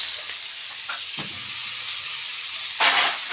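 Drumsticks with chilli being stirred in hot oil for a village-style dish, a soft steady sizzle broken by a few light scrapes of a spoon against the pan, no talking.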